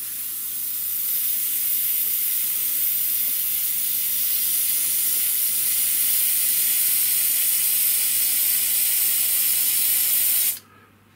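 A continuous, steady hiss of a pistol-grip airbrush spraying primer for about ten seconds, then cutting off abruptly near the end.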